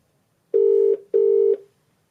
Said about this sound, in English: making a simple phone call using the MacBook Pro